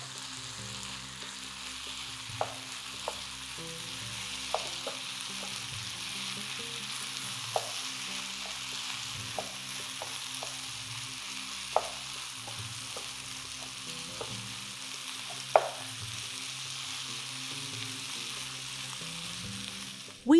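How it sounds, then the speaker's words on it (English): Turkey and pepper filling for Moroccan savory pastries sizzles steadily in a hot pan while being stirred, with small clicks of the utensil against the pan rising above the continuous frying hiss. "Mix the ingredients together."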